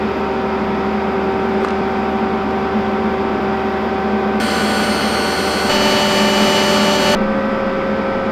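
Spray gun shooting orange Rust-Oleum primer, thinned in a 3:1:1 mix, onto a Ford Dentside truck frame: a steady, loud continuous hiss that runs unbroken throughout, with a brief brighter surge partway through and no voices.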